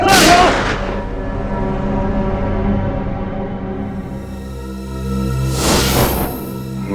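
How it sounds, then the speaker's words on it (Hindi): Gunfire in a Hindi TV crime series, the C.I.D. show: a loud, sharp blast opens the scene, its echo booms and fades, and a second heavy shot comes about five seconds later. "गोली चलाओ उस पर, चलाओ गोली"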